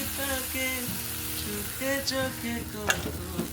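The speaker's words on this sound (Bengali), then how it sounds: "এই যে ডাবু পাড়া এক হাতা আমি নিয়ে নিয়েছি, এবারে শুরু করে ঢেলে দিলাম" A ladle of ashke pitha batter hits a hot, oiled pan and sizzles steadily and up close for a few seconds, with faint tonal sounds running underneath.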